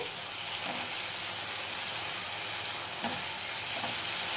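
Spices for a thin pabda fish curry are lightly sautéed in a pan over raised heat, giving a steady, soft sizzle with faint stirring scrapes and no talk.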